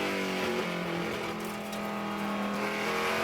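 A Gulf-liveried Guthrie's Garage Mustang TA2 race car in a Trans Am race at Laguna Seca, its engine roaring loud and sustained with a shifting pitch as it drives past.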